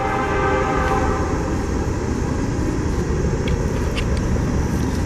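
A train rolls past near a creek with a steady, loud, full rumble, and its horn sounds through the first half with sustained tones. No one speaks.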